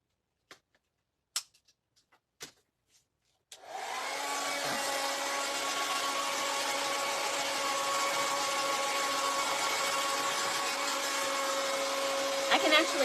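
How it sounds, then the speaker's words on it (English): A handheld craft heat dryer runs steadily with a whirring hum, drying acrylic paint on a primitive nesting box craft; it starts after a few taps and clicks and stays loud and continuous to the end. "I can actually talk with this dryer going."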